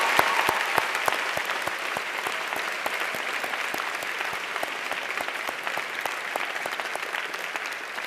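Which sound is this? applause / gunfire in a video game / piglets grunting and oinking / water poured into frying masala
applause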